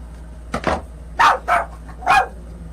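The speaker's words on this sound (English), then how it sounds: "Ari's going to keep barking" A pet dog named Ari barks indoors, two short barks followed by three louder, evenly spaced barks, close by and alone over a low background hum.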